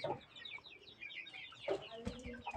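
Free-range native chickens cluck and squawk close by in a farmyard. The calls are short, overlapping and irregular over a steady background bustle of the flock.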